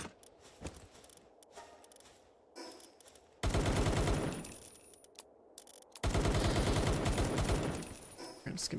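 Turrets firing in the game Palworld, heard as two long, loud, dense bursts of rapid gunfire with quieter scattered shots and clatter before them.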